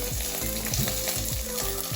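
Chana dal and urad dal crackle in hot oil with a loud, dense sizzle up close, broken by regular soft thumps and scrapes as the lentils are moved about the pan.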